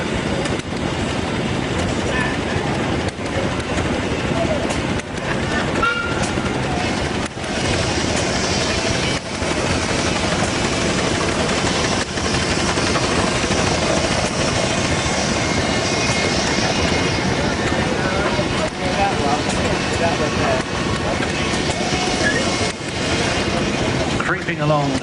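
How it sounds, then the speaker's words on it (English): A 1909 Marshall 6-horsepower steam traction engine runs at a 1999 steam rally on the Isle of Wight, giving a continuous rumbling, hissing wash of mechanical noise with someone narrating over it. "it's a 6-horsepower Marshall traction engine built in 1909"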